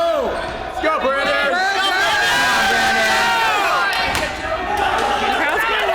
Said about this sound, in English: The crowd's going wild for cake.